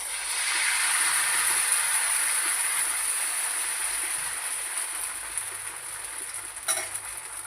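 Potato slices fry on a hot griddle (tava), giving a steady, close, broadband sizzle that holds for several seconds without talk.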